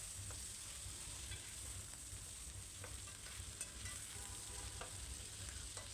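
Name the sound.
chicken frying and being stirred in a pan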